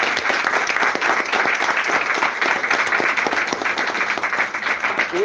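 A church congregation breaks into applause during a sermon, a loud, sustained patter of many hands clapping together, with a brief spoken word near the end.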